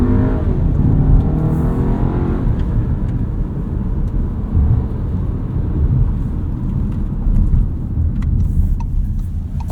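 A 2024 Volkswagen Tiguan S with front-wheel drive and a turbocharged engine accelerates at full throttle, giving a loud, steady, droning engine roar throughout with a rising revving tone early on and no talk.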